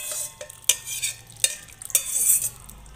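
A spoon scrapes and stirs vegetables through Khandeshi chicken tarri curry in a pan, a light sizzle beneath repeated sharp clinks against the pan, with no voices.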